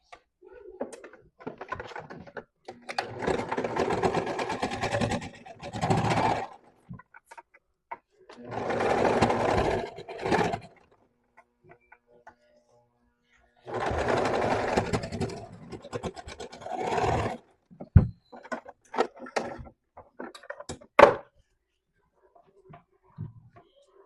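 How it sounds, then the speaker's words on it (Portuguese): A sewing machine runs a straight stitch along a fabric ruffle in several separate bursts of steady whirring, with short pauses and small clicks between runs and a few sharp taps near the end. "aí eu vou passar uma costura reta agora no nosso babado"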